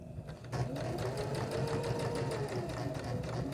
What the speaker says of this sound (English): I'm going to stitch a little bit